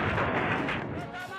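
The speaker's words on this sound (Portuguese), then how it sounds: "Um vídeo amador registrou o momento da explosão." A suicide bomb blast during a street protest in Khost, Afghanistan, caught on amateur footage: a loud, dense, boomy roar filling the short span, with crowd noise and possible voices under it.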